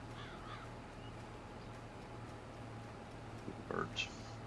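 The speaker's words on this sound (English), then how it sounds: "Birds." Crows caw a few times near the end, short harsh calls over a steady low engine hum and background noise in a Farming Simulator 22 farm scene on the Bloomfield map.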